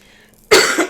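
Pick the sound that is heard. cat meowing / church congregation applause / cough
cough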